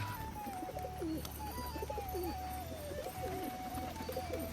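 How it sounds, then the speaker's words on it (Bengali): Domestic pigeons at a home coop give repeated soft, throaty coos, fairly quiet and close, with a low continuous hum underneath and no talking. "আমার বাড়ি এই পায়রাটা দেখো খাঁচার থেকে বেরিয়ে দেখো"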